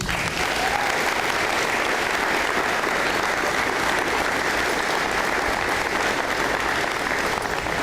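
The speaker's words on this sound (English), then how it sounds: "Let's give another big round of applause for the apprentices" Steady, sustained applause from a large audience at a school apprenticeship signing day, loud and continuous throughout with no pauses.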